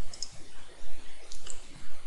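Several sharp computer mouse clicks, a short burst early and a single click later, crisp and close, during secondary-button clicking on a desktop with no talking.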